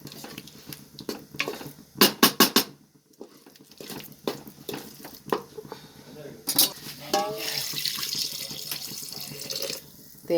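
Water poured into a pan that had been used to roast flattened rice in ghee, with splashing, metal clanks and scraping against the vessel, bursts of running water and a steady sizzling hiss toward the end.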